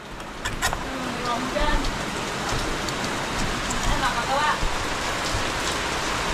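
Steady heavy rain during a storm, hissing and pattering on a surface, dense and continuous, with a few louder drops and a faint passing vehicle.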